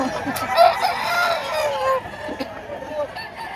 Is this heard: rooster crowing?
yes